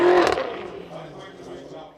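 A drift car with an Akrapovic exhaust and 315-section tires revs sharply in a loud burst at the start of a drifting showcase, then fades to a lower engine note while a commentator talks.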